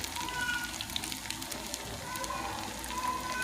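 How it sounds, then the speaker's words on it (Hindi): Chicken bread rolls fry in hot oil, turned to cook on both sides, giving a steady, soft crackling sizzle with scattered pops throughout, fairly quiet and close. "ये देखिए हम दोनों साइडों से अच्छी तरह इसे फ्राई करेंगे।"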